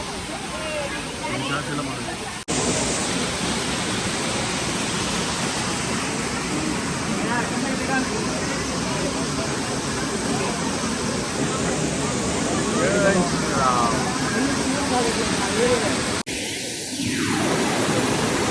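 Akasaganga waterfall in forest near Tirumala, running with heavy flow after two days of hard rain: a loud, steady broadband roar of rushing water filling the scene, briefly cut near the start and end.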